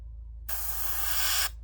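An airbrush gun sprays the last of its lacquer paint onto the manifold of a Tamiya Mustang GT4 model car, a single close, steady hiss lasting about a second against a low electrical hum.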